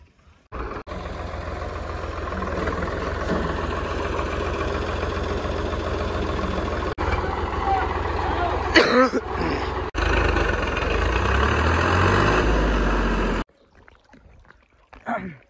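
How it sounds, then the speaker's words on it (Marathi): A farm tractor's engine idles and reverses on a rural field, giving a loud, steady low drone with a few knocks that runs for about thirteen seconds before cutting off to quiet. "ट्रॅक्टरचा रिवर्स जमत नव्हता"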